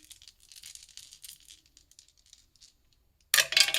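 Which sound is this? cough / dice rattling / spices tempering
dice rattling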